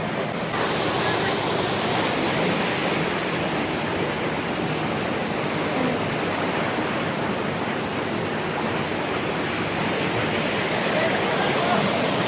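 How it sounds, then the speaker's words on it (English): A waterfall at Robber's Cave (Gucchupani) near Dehradun gives a steady, loud, broadband rush of falling water that holds unchanged throughout, close by and alone. "So this is a waterfall."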